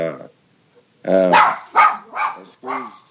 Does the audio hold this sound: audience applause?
no